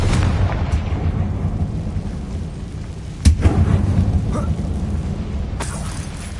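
The Confringo explosive spell from Hogwarts Legacy goes off as a single sharp blast partway through, over a steady rumbling game soundscape with a brief bright burst near the end.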